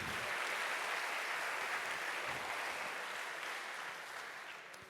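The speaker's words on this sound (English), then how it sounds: "give a big round of applause for Thelma and Louise" A conference audience applauds two dancing robots named Thelma and Louise, a dense wash of many hands clapping at once that holds steady and then slowly fades toward the end.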